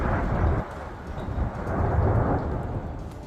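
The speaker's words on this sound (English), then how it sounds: "The lightning rapidly heats the air, causing a sudden expansion and creating a roar of thunder." Deep, continuous rumbling roar of thunder during thundersnow in a winter storm, loud and close, swelling and rolling over a few seconds with no talk.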